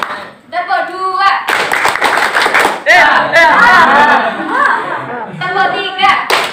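A classroom of students claps together in a clapping game during an Islamic religious education practice lesson, with a burst of quick hand claps under a teacher's voice calling the count and pupils' chatter.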